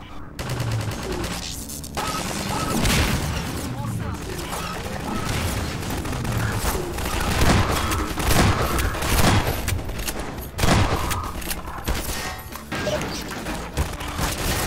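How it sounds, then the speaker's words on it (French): Sustained gunfire in Half-Life 2 Episode 1 rattles throughout, with bursts and heavy impacts aimed at the player, loud and continuous over clattering mechanical noise and crashes. "Et qui me tire dessus là?"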